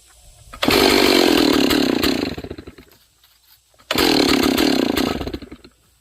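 A ported Stihl 038 AV Magnum II chainsaw revs loudly at full throttle for about two seconds, drops back toward idle, then revs hard again before a cut, with no talk over it.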